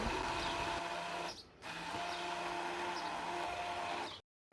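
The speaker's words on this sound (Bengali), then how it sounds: "এবার ভালো করে সবগুলো একসাথে ব্লেন্ড করে নিব" A kitchen blender runs steadily, blending sugar with other ingredients for Barisal-style molida, a loud continuous whirring motor hum with one brief dip mid-run before it cuts off.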